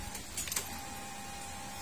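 Motorcycle fuel pump with a check-engine fault that keeps running without shutting off, a faint steady hum heard close up with a few brief clicks near the start.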